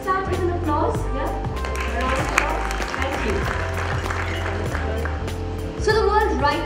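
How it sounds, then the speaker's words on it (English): An audience at an indoor lifestyle brand event applauds, a steady wash of many hands clapping heard under an amplified host's voice and music. "We could start with an applause."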